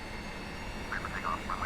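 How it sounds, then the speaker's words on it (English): Boeing 727 jet engines spool up for takeoff in Microsoft Flight Simulator X, a steady broad roar holding throughout, with brief whining tones flickering over it during the second half. "So we'll spool up the engines."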